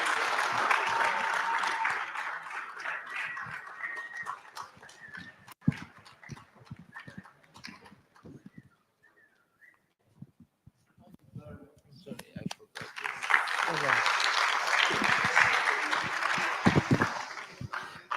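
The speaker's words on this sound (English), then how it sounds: "I think you should celebrate him with another round of applause." Audience applause at a college public lecture, a sustained round that fades into a near-quiet lull with a few scattered claps, then swells again into a second strong burst of clapping.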